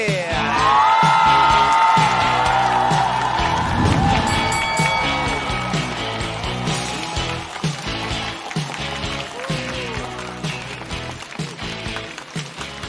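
Studio audience at a stand-up comedy show applauding and cheering for comedian Kid, a loud sustained wash of clapping and whoops over music, gradually easing off toward the end.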